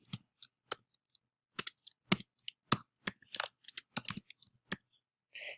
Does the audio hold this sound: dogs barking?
no